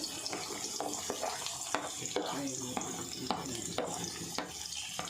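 Garlic, carrot, beans and onion frying in hot oil in a pan for pasta, a steady close sizzle with scraping stir strokes recurring every half second or so, no voices.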